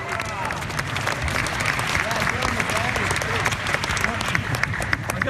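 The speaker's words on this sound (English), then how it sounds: "Everybody give John a big round of applause." Steady, loud applause from an audience in a state legislative chamber for a speaker, dense clapping with crowd noise and scattered cheers running throughout.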